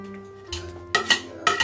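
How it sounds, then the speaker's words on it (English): Butter goes into a saucepan for flapjacks in a home kitchen, with a few close clinks and scrapes of a utensil against the pan, brief and sharp over a faint hum. "First of all, we need the saucepan. Okay, put the butter in then."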